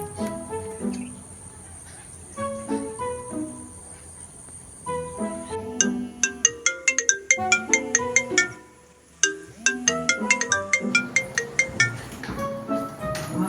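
A mobile phone ringtone plays in a Konkani comedy short film: a bright, rhythmic electronic melody of rapid chirping notes that pauses briefly midway, then resumes, loud and close.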